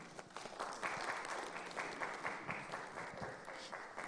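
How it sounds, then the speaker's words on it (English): An audience applauds a panel moderator as he is introduced at a conference session on technology in education, a steady wash of clapping lasting throughout at moderate distance. "Richard Amuzu, a round of applause for him."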